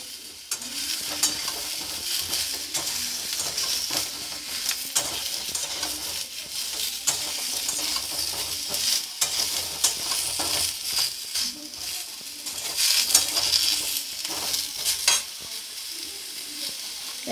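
Eggplant, potato and pumpkin frying in a small amount of oil, stirred steadily, with a continuous close sizzle broken by repeated scraping strokes of a spatula against the pan throughout.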